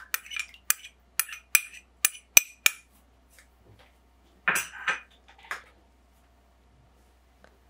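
A series of quick metallic clinks and taps of whisking warm milk in a bowl for homemade yogurt, several sharp strikes in a row, then a softer scraping flurry, close and otherwise quiet.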